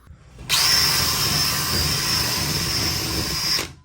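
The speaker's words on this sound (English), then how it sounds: "I got my drill bit ready to go." A power drill whirs steadily at high speed for about three seconds, drilling a hole in drywall, close and loud, then stops abruptly.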